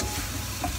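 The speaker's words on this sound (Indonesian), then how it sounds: "Terus kita masukin si ayamnya yang tadi udah digoreng" Fried chicken being stirred into a spicy garlic sauce in a pan, with a dense, loud sizzle and scraping stir running continuously through a short stretch, no talking.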